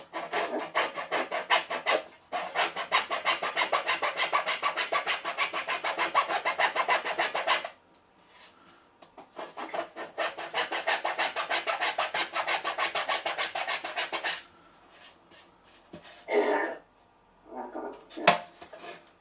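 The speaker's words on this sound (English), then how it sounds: "I like the noise these small saws make as well." A small hand saw cuts through wood in two long runs of rapid, rhythmic rasping strokes separated by a brief pause, followed by quieter scraping and handling knocks.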